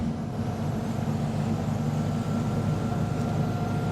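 Steady drone of a 1963 Porsche 356C Sunroof Coupe cruising in fourth gear on a farm road, heard from the passenger seat, a continuous low engine hum with road and wind noise and no talking.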